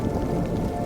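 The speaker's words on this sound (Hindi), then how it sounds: "बारिश की आवाज उन्हें किसी राक्षस की सांस जैसी लग रही थी" Heavy rain falling in a cartoon forest, a dense, steady hiss of drops on surfaces, loud and continuous throughout, with no voices.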